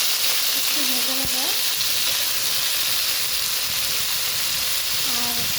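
Taro (kochur mukhi) fries in a pan with a loud, steady hiss of oil throughout, and a voice briefly hums or speaks in the background.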